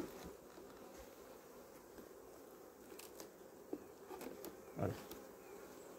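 Honey bees buzzing steadily around a hive during a transfer from a Layens hive to a Dadant hive, a continuous low hum with a few brief knocks and a short spoken word.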